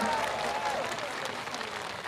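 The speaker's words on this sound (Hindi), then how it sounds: "आखिरी तक राष्ट्रीय अध्यक्ष के सम्मान में तालियां बजना चाहिए, आखिरी तक जोरदारी के साथ, आखिरी तक।" A large crowd at a political rally claps steadily in a dense, even roar of applause with faint voices mixed in.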